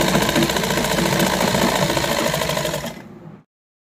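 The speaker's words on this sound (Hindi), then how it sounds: "यहाँ पे एक पंजे की सिलाई लगा देंगे, एक पंजे का गैप" An electric sewing machine runs a steady, loud stitching burst while hemming the bottom opening of a salwar, its motor whirring continuously for about three seconds before stopping abruptly into silence.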